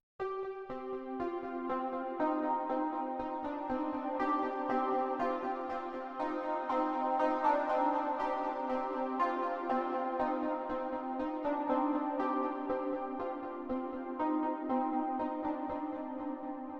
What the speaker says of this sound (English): a nice sounding triangle. And thanks to the adjustable filter, you can make some very beautiful tones, especially with the reverb.